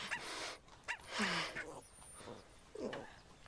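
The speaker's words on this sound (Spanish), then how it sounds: "bonitos perros" Dogs whimper and yip softly in a film scene, making faint, short whines in scattered bursts over a noisy background.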